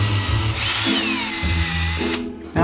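A power drill drives a self-tapping screw into a guitar pedalboard, its motor whining steadily and loud up close, the pitch stepping down as the screw bites, then stopping abruptly near the end.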